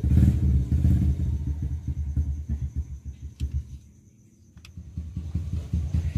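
Car engine revved at night while dealing with a stuck ignition key, loud rumbling idle with rhythmic throbbing that dips briefly before rising again, heard close up.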